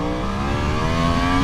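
A Yamaha track-built race motorcycle revs hard in first gear, a loud, sustained engine roar with steadily rising pitch throughout, close and continuous with no talk.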